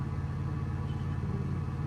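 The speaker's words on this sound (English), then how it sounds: "that APU ain't no joke either. You can hear it running right now." A truck auxiliary power unit runs steadily at close range, a continuous low engine drone and hum holding an even level throughout with no talk.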